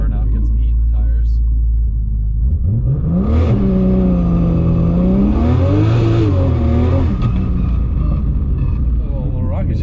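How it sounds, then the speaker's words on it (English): A Barra-engined GT350 does a burnout on an airstrip to heat its tyres, the engine rising from a low idle into a loud, sustained rev with wavering pitch, tyre roar beneath it. "Do a little burnout, get some heat in the tires."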